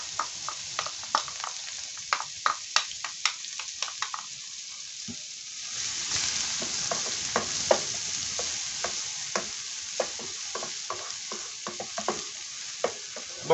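Onion frying in hot oil in a pan gives a steady crackling sizzle with many sharp spattering pops and occasional stirring, close by and with no voices.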